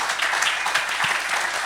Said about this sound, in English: we'll continue on the applause for the group